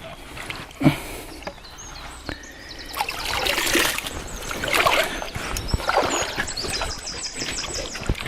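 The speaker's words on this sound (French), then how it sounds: "Je sais pas si vous entendez les oiseaux qui chantent là" Birds chirp and sing over the soft trickle of a small stream, with occasional light knocks and rustles nearby.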